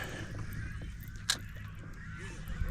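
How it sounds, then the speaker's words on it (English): Geese and other waterfowl honking and calling from a nesting island full of birds and chicks, heard from a kayak on saltwater; scattered calls ring out over a steady background with one sharp louder honk midway. "The noises that come off of this island from all the birds and the baby birds and all that."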